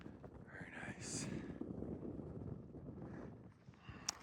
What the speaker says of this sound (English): Cold wind is blowing.